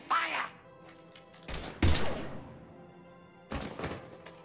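Gunfire in the Mass Effect 3 video game, heard as three heavy bursts of shots with thuds and decaying echoes, loud and close, separated by brief quiet gaps.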